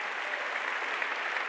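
Steady applause from a church congregation at a Sunday worship service, a dense even patter of many hands clapping continuously with no voices over it.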